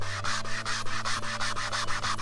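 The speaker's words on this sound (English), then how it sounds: "These are really caked on, so actually got a scrub brush" A scrub brush works back and forth over caked-on golf cart seat upholstery, giving a steady run of close, loud rubbing strokes about four or five to the second with no talking.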